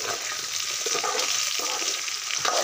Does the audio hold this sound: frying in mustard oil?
yes